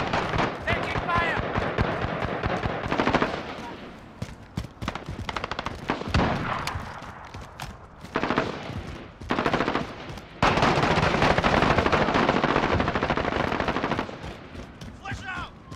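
Gunfire in Call of Duty: Modern Warfare comes as dense rattling automatic bursts and scattered shots, loud and continuous with brief pauses, under players' talk.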